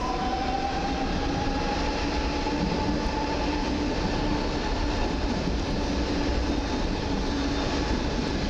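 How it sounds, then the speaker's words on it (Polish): A PESA Elf electric multiple unit on the S2 line to Chopin Airport passes Warszawa Ochota station. Its steady, loud rail rumble and wheel noise go on throughout, with faint squeals and no voices. "Elf na linii S2 do lotniska Chopina."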